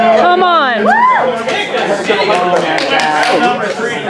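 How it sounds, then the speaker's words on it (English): Crowd chatter buzzes at a live competition event, with many overlapping voices, excited shouts and scattered claps forming a dense, close, busy wash of sound. "The crowd is buzzing."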